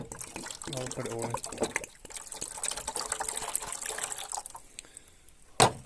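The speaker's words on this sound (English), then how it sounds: "We just need to add water to this reservoir." Water pours into the reservoir of a tile saw used for cutting glass bottles, an uneven splashing and trickling that runs under a person talking, ending in a sharp clatter.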